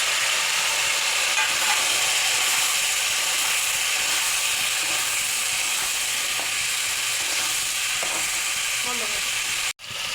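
Ridge gourd and tomato frying together in hot oil, a steady loud sizzle and hiss that carries on without a break, with faint stirring scrapes toward the end and a short drop out just before the finish.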